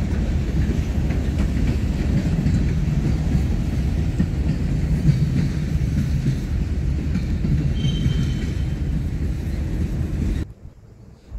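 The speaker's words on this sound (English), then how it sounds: "That's the end of that train." Steady, heavy rumble of a CSX freight train rolling past close by near a rail yard, with wind buffeting, continuing for about ten seconds before cutting off abruptly.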